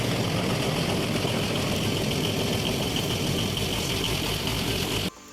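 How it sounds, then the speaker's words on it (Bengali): A boat engine on a trip in Bangladesh runs at a steady, loud, close-up idle with a dense low rumble, then cuts off abruptly just before the end. "এখন আমাদের বোট স্টার্ট দিবে"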